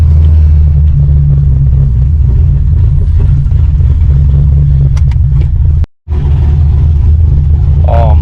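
A first-generation Cadillac CTS-V V8 with a BTR Stage 3 naturally aspirated cam idles loud and deep with a lumpy, rumbling rhythm, close by, steady throughout with a brief cut near the end.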